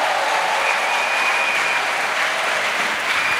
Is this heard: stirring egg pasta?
no